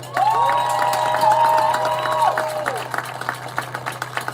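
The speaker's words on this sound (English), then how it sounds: "that deserves a huge round of applause" Crowd applause and cheering for a high school field hockey team at a state championship game, with sustained whoops over clapping that taper into scattered claps, under a low steady hum.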